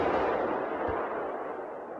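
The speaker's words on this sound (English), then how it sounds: "the jewel in the crown of the S-Tank is its unapologetic main weapon" A heavy boom with a long rumbling decay, matching the fixed main gun of a Swedish S-Tank firing; a single loud blast that fades out over two seconds with no voices.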